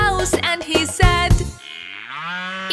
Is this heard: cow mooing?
yes